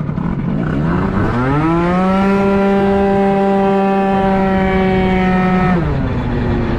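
An MBK Nitro 70 scooter fitted with a Top kit revs hard and close, the loud two-stroke engine whining as it climbs to a sustained high pitch, holds there, then drops back.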